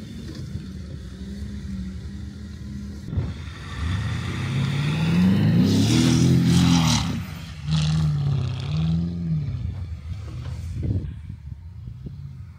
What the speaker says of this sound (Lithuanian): Sustojam priešais vidutinio statumo įkalnę, bandysim palyginti, kaip greitai mašinos užlips į viršų